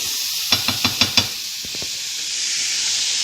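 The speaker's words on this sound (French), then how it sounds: "notre cuisson est en train juste là de cuire" Broccoli cannelloni cooking in a pan, a steady high hiss of sizzling with a quick run of five sharp taps near the start.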